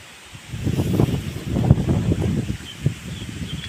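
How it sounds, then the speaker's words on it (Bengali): Strong wind gusting across a village farm on an overcast morning, a steady rushing roar buffeting the microphone, swelling and easing for a few seconds with no one talking. "দেখুন সারা আকাশ মেঘলা, বাতাস বইছে জোরে জোরে।"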